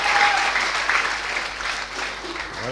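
A church congregation at a Sunday service claps steadily and loudly in praise of the Holy Spirit, a sustained wash of applause with a voice faintly audible underneath.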